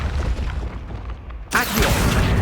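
Revelio spell cast in the video game Hogwarts Legacy: a low rumbling game ambience breaks into a sudden bright, shimmering magical whoosh that swells and holds.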